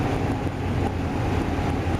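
Strong wind buffets a microphone outdoors, a steady loud broadband rush with gusty low rumble that runs unbroken for the whole stretch, no voices over it.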